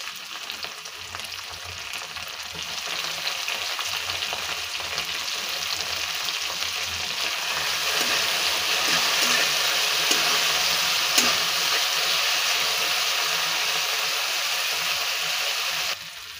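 Onion and tomato fry in hot oil in a pan for paneer bhurji, giving a steady, close sizzle that swells slightly partway through, with faint stirring clinks and no talking.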